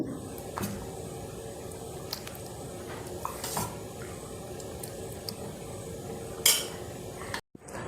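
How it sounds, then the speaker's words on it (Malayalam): Rice gruel (kanji) ladled into a clay pot at an evening meal, with soft scraping, stirring and light clinks of a ladle against the pot running steadily, and a sharper clatter near the end. "എനിക്ക് ഈ മൺചട്ടി കഴിക്കാനാണ് താല്പര്യം അപ്പോൾ അതിലേക്ക് ഞാൻ കുറച്ച് കഞ്ഞി ഇടുകയാണ്"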